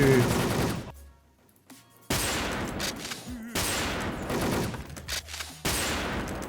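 Gunfire in the online shooter game Wolfteam: repeated loud broadband bursts of rapid shots come in several volleys separated by brief lulls, with a voice talking in places.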